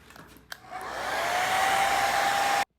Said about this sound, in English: a blow dryer.